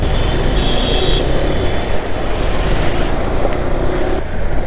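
Heavy rain and roaring wind noise on a KTM Adventure 390 motorcycle ride near Nagpur, a loud unbroken rushing wash with no talking.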